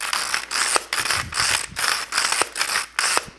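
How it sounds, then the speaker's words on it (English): A small pepper mill grinding black pepper gives a rapid series of close, loud ratcheting cranks, about eight even twists in a steady rhythm. "I've got a few cranks, and that's about a 1/4 teaspoon of black pepper"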